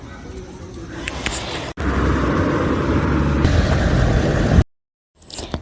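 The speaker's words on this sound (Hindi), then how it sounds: "गाड़ियों की आवाज़ आ रही है।" Steady roar of vehicles passing along a roadside, continuous traffic noise loud and close, ending in a brief dropout.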